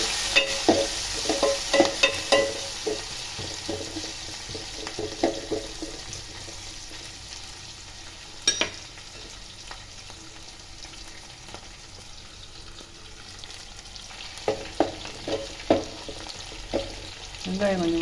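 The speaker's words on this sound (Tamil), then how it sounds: "இதுக்கு தேவையான கருவேப்பிலை, 3 பச்சை மிளகாய் எல்லாம் மட்டும் கொஞ்சம் வதக்கிடலாம்." Curry leaves and three green chillies sauté in a pan, giving a moderate sizzle broken by bursts of stirring clatter and spoon scrapes, with quieter stretches between them.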